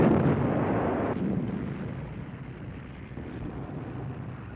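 A Sturmtiger's 345 kg rocket projectile fired from its mortar barrel, heard as a loud, deep roaring rumble that slowly fades.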